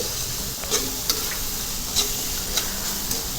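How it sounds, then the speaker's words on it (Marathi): Fried soybeans being stirred into a sizzling masala in a pan, bright steady hissing with a few sharp spatula scrapes and taps at intervals, close up and alone. "आता त्याच्यामध्ये जे फ्राय केलेले आपले सोयाबीन आहेत ते घालून घ्यायचे आणि त्याला मिक्स करायचे"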